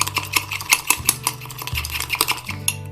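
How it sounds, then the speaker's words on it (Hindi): Instant coffee and milk being beaten by hand in a cup, a spoon clinking rapidly and repeatedly against the sides in a steady stirring rhythm, close and fairly loud, with no talking. "दूध डाल के तो इसको दोबारा बीट कर सकते हैं"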